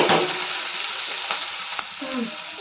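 Cooked lentils and green beans drop into a hot mustard seed tempering, setting off a loud sizzling burst that settles into a steady close sizzle with light stirring, for a village-style beans bassaru.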